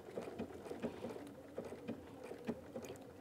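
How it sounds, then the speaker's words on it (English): A sewing machine stitching appliqué slowly around an outside corner, its steady soft rhythmic needle taps faint and alone. "As we approach the corner, the outside corner, we're going to stitch slowly."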